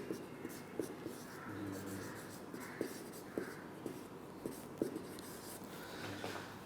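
Chalk or marker writing on a board during a chemistry lecture, a faint scratchy scraping with small tapping strokes running steadily under a quiet room hum, no voice heard.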